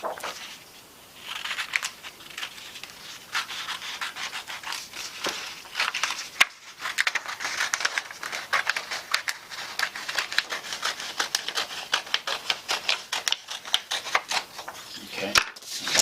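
Scissors cutting through paper to make a flashlight beam shape, a long run of quick crisp snips and crinkles up close, with occasional rustling handling of the sheet.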